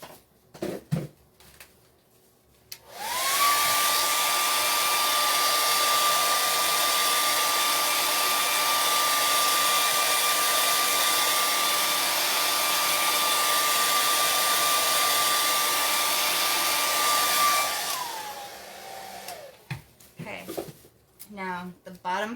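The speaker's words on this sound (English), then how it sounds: "I'm getting my dryer out." A hair dryer runs loudly and steadily for about fifteen seconds with a constant whine, switching on and off abruptly, with faint bits of handling noise before and after during a chalk-paste craft project.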